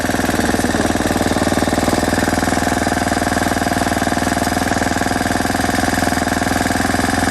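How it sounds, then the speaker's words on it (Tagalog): A grass cutter's small two-stroke engine runs steadily and loudly at close range, a fast buzzing drone holding even throughout with no talk. "naglalagay po si Busing ng talim ng grass cutter ayaw ko pong ibabat ko na mahirap din pagpatay-patay ng makina"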